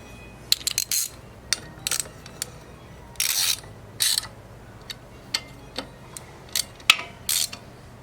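A ratchet wrench clicks in short bursts while loosening 10mm engine bolts near the coolant sensor on a Chevrolet Cobalt SS short block, with irregular close clatters and quick ratcheting runs separated by brief pauses.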